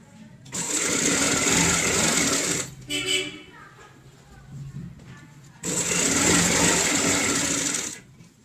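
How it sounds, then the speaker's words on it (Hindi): A sewing machine stitches along the edge of a round cushion cover in two loud, close bursts with a quieter pause between them, filled with faint handling noises. "और सबसे पहले किनारे की सिलाई लगा लेंगे।"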